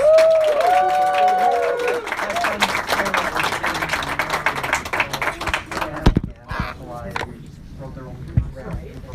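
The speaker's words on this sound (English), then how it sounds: "Give them a round of applause." A crowd breaks into applause and cheering after a voice speaks at a live furry convention show, the clapping dense at first, then thinning out and fading under scattered talk.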